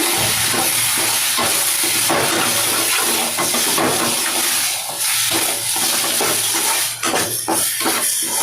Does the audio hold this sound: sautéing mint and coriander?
yes